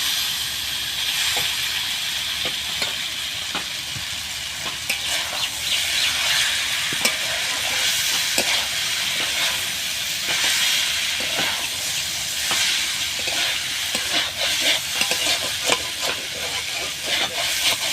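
Chicken Maggi noodles are stirred and fried in a pan, with a hissing sizzle and steam under repeated scraping and clattering strokes of a spatula, close by, with no voices.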